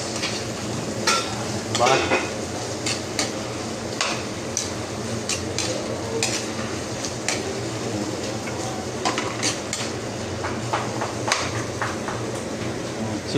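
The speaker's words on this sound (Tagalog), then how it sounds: "Tamang gisa-gisa lang mga sibuyas." Onions sauté in a pan with a steady, close sizzle, punctuated by frequent utensil scrapes and taps against the metal. A voice briefly speaks a single word.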